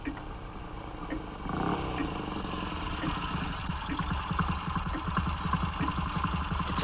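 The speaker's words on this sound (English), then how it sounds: "It's a motorcycle and sidecar. It's pulled up in the courtyard." A motorcycle with a sidecar pulls up in a courtyard, its engine putting steadily at a low idle, moderately close and fairly quiet, with no voices.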